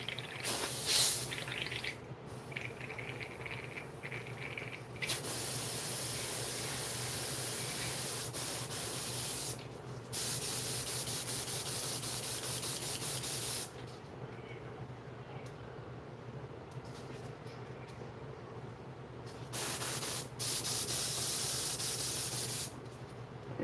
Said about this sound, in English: Here, not spraying well. I can see it's not spraying right.